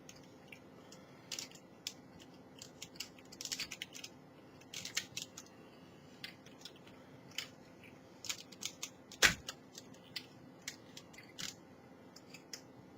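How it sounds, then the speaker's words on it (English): Plastic Energon Prowl transforming toy being folded and locked into place: scattered faint clicks and soft plastic scrapes, with one sharper snap near the end, all handled close up and without voices. "Fold these sides and lock it all into place."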